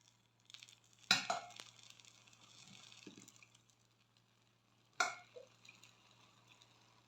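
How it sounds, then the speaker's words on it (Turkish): Syrup is poured over a Turkish dessert in a quiet kitchen, two short splashing, trickling bursts of liquid a few seconds apart over a faint steady hum, close and soft. "Şimdi şerbetimi ilave ediyorum."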